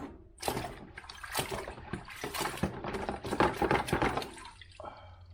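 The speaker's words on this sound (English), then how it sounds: "I'm going to dip them in the water, the clean water, to get the soap off of them" Parts from a Holley 4160 four-barrel carburetor for a Ford Mustang 390 are dipped into clean water to rinse off soap, making close, irregular splashes, sloshes and drips in short bursts.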